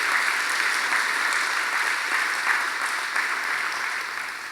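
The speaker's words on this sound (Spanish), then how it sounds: "Démosle un fuerte aplauso al Señor" A church congregation claps in praise to the Lord during a Spanish-language worship service, a dense, steady applause that holds at full strength throughout and eases slightly toward the end.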